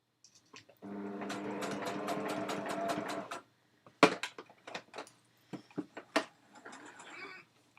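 A sewing machine stitches a pen wrap in one steady, close, rapid run of about two and a half seconds. It stops, then gives several shorter bursts and clicks, with no talk.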